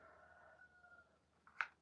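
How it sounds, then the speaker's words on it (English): A neighbor's rooster crowing in the distance, one faint, drawn-out crow that tapers off, followed by a brief, sharper sound. "That's the neighbor's rooster, if you heard it."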